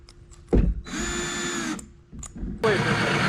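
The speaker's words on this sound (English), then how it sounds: "I went ahead and put some holes in the plywood of the bed just so that the mattress can breathe a little bit." A power drill bores holes into the plywood of a bunk bed in a mini camper, whining in two sustained runs of about a second each, with a thump at the start and a brief pause between runs.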